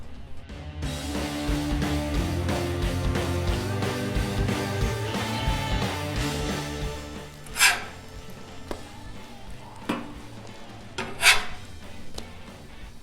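A metal spatula scrapes and flips cinnamon rolls on a Blackstone griddle, giving steady rubbing and scraping, followed by a few sharp, separate metallic clanks toward the end.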